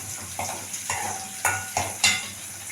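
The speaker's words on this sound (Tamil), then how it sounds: "வெங்காயம் வந்து நல்லா இந்த மாதிரி கோல்டன் கலருக்கு வர ஆரம்பிச்சிருச்சு." Onions fry in a pan for manathakkali kara kuzhambu, a steady sizzle broken by several stirring scrapes and light clinks of a utensil at irregular intervals.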